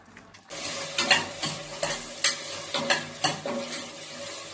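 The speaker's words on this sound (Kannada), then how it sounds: "ಈಗ ತರಕಾರಿನ ಸೇರಿಸ್ಕೊತಾ ಇದ್ದೀನಿ. ಹಸಿ ಸ್ಮೆಲ್ ಹೋಗೋ ತನಕ ಚೆನ್ನಾಗಿ ಫ್ರೈ ಮಾಡ್ಕೋಬೇಕು." Vegetables and fried onion sizzle in oil inside a pressure cooker for masala idli saagu, with a steady close fry and repeated scraping stirs about every half second.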